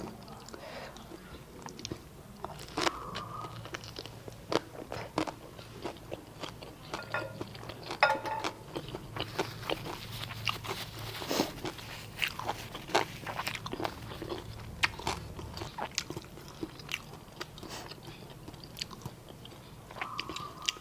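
Someone biting into and chewing Nem Nueang rolls, with soft crunching bites and wet chewing repeated close up over about twenty seconds, fairly quiet throughout.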